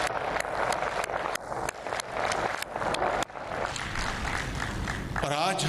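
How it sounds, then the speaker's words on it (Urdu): Audience at an awards ceremony breaking into sustained clapping, dense applause filling the room with brief dips, loud and close, with a voice speaking under it. "یہ بات اس محفل میں مکمل نہیں ہوگی اگر آپ ان کے لیے زوردار تالیاں نہیں لگائیں گے"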